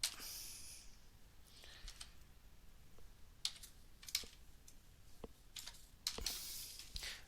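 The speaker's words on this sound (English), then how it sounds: "Just type it in." Someone types a MAC address on a computer keyboard, making soft, irregular key clicks close by in a quiet room.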